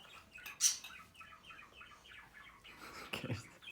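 Quiet, rapid bird chirps repeat in short bursts at Düden Waterfall, fairly faint, with a brief louder rustle near the start and another toward the end.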